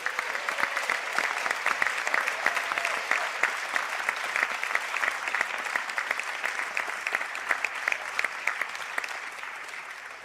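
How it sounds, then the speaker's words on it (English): Graduates at a college conferring ceremony receive a long, steady round of applause from the gathered audience, dense clapping sustained at even loudness before easing off near the end. "I think we might give them one more round of applause."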